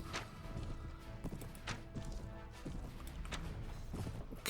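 Horse hooves clip-clop in a Mount and Blade Warband medieval cavalry battle, an uneven run of close, sharp hoofbeats over a busy background of battle noise, with no talk.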